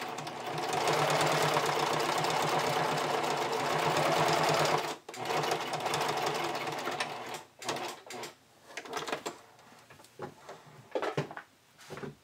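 A sewing machine runs a tight zigzag stitch on bikini top binding, a steady close rattling hum for about five seconds, then shorter stop-start bursts and handling clicks.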